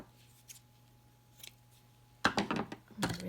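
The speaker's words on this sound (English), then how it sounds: "My ribbon scissors there." Sharp snips of scissors cutting ribbon, a couple of faint cuts early on, then a louder cluster of quick snips near the end.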